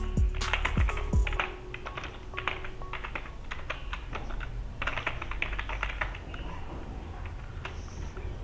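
Keys clatter steadily on a computer keyboard as text is typed into a portfolio design, a quick, close run of light taps in short bursts with brief pauses, all at a moderate level.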